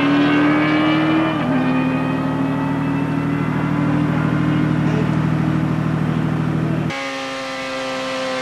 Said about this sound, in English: Steve Sykes then doing very well to keep the front wheel on the ground and blasts off for his quarter mile time.